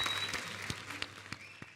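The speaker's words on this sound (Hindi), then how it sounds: "एक बार जोरदार तालियां हो जाए मिसिस बंसाली के लिए" Studio audience applause on a Hindi comedy talk show, a brief wash of clapping with a few sharper claps standing out, moderately loud and with no talk over it.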